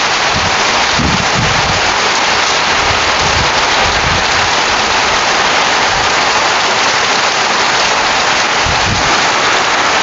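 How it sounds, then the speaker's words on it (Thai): Heavy rain pours steadily at a Thai house museum, a loud dense hiss of falling water with occasional low rumbles, continuous throughout and no voices. "มาพร้อมสายฝนจริงๆ"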